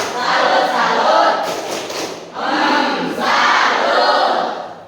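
A school class claps and chants a salute cheer together in rhythmic bursts, loud and close, with a brief dip before the cheering picks up again.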